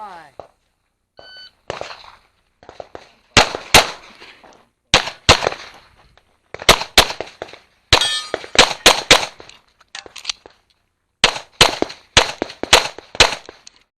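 Rapid gunshots ring off steel targets on a stage at the IDPA National Championship, arriving in several quick bursts with sharp metallic clangs between brief pauses, loud and close, with no talk over them.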